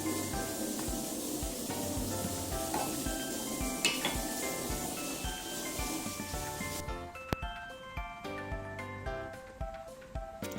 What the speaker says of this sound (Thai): หลังจากนั้นนะคะเราก็คนให้ น้ำและกะทินะคะ เข้ากันนะคะเป็นเนื้อเดียวกันนะคะ